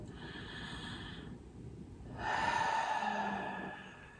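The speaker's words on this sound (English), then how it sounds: "let's take a nice full breath" A deep, full breath taken during a stress-release yoga session for legs and hips, a soft breathy inhale that pauses, then a fuller, louder exhale, close and alone with no talking.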